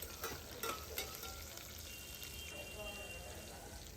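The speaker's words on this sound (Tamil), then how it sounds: "2 பெரிய வெங்காயத்தை ஸ்லைஸ் பண்ணி வச்சுருக்கேன், அதையும் ஆட் பண்ணிவிட்டு கொஞ்சம் ஃப்ரை பண்ணிக்கோங்க" Sliced onions frying in hot oil with mustard seeds, pepper and cumin for dal rice, a soft steady sizzle with a few stirring scrapes near the start, quiet and close.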